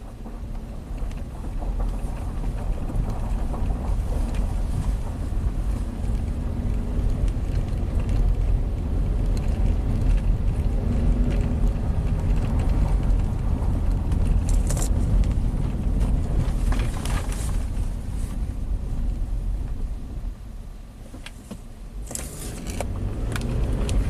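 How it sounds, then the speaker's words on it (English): A Honda engine at about 100k miles revving out steadily while its faulty transmission fails to shift, a sustained droning roar with faint rattles, dropping briefly near the end before rising again. "Revs out, doesn't shift."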